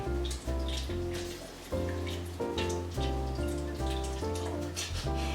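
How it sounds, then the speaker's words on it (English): Water rattles and patters inside the outer compartment of a double boiler melting candle wax, a soft, steady drip-like clatter over a continuous tonal background. "You can hear the water rattling, and that's on the compartment between the walls rather than the actual wax"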